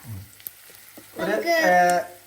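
Onions frying and sizzling in a pan for a Kuttanad-style duck curry, a near, steady hiss that swells louder in the second half after a few soft clicks and stirring sounds.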